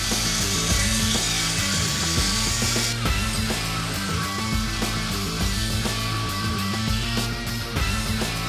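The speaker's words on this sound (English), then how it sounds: "Using a 12-inch contact wheel on our Bader sander, Sam hollow grinds the spear blade" A Bader belt sander with a 12-inch contact wheel hollow grinds a steel spear blade. A loud, steady grinding whir runs without a break, with an abrasive rasp that shifts a little as the blade moves across the wheel.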